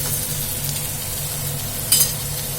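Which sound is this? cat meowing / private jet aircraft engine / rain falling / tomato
tomato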